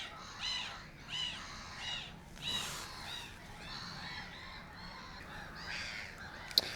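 Black-headed gulls call repeatedly in harsh, squawking bursts at a wetland reserve, several cries spaced about a second apart at moderate distance, with a sharp click near the end.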